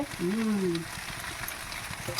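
Boiled chow mein noodles frying in a pan, a steady close sizzle with a brief voice-like tone near the start, no clear speech over it.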